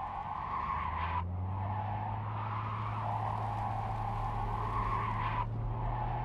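A car in the video game Cyberpunk 2077 gives off a loud, steady engine hum with a low drone and a squealing, skidding tone that cuts out and restarts twice, near and continuous, with no talk.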